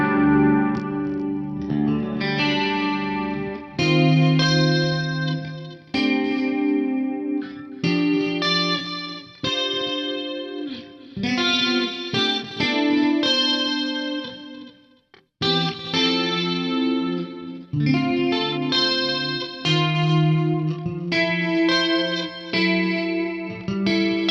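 Guitar played through a Lexicon Intellifex on a chorus and delay preset, giving a lush, shimmering, echoing tone across a steady melodic passage of sustained notes and chords, loud and alone for about twenty-four seconds.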